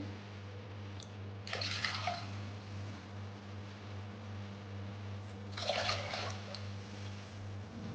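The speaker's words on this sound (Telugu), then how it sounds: "ఇప్పుడు మూడు కప్పులు వాటర్ తీసుకుంటున్నానండి" Three cups of water are poured into a pot for sago payasam in two separate splashing bursts, a few seconds apart, over a steady low hum.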